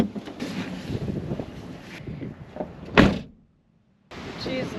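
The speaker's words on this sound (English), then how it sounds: "it's windy." Strong wind buffets the microphone outdoors at night beside a small shelter, a loud, rough rumble broken by one sharp gust and then a brief silent gap, with a voice faintly mixed in.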